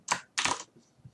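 Two quick bursts of typing on a computer keyboard, close and crisp, separated by a short pause, with a faint tap trailing at the end.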